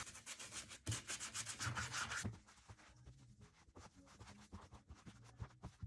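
Close, brisk scrubbing of very dirty white shoes with a brush, starting as fast, loud back-and-forth strokes and easing into softer, irregular rubbing for the rest, with no talking.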